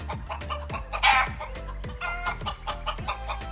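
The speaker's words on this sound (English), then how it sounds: "But take a look at these beautiful chickens." Chickens clucking in a coop on a rural property, with repeated close clucks and a brief crow-like call among them, steady and moderately loud.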